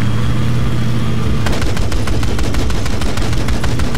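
Mounted gun firing in Battlefield 4, a loud rapid burst of repeated shots beginning partway through and continuing over a dense, constant battle rumble.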